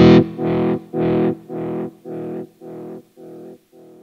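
Guitar played through a T-Rex Replicator D'Luxe tape delay pedal set to a long delay time and high feedback, one distorted chord repeating in about eight evenly spaced echoes that fade steadily.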